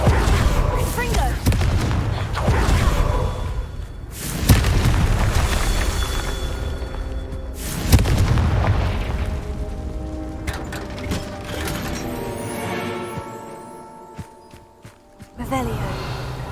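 Explosive spell blasts in a Hogwarts Legacy fight: several loud booming bursts spaced a few seconds apart, each with a crackling decay, over a busy background with a voice calling out spells.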